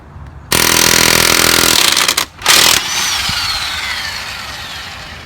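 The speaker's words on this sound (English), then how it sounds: "Now we can pull this one in with the impact." An impact wrench pulls a rear wheel lug stud into a brake rotor in two loud, close bursts of rattling hammering, separated by a short pause, then fading into a quieter mechanical whir.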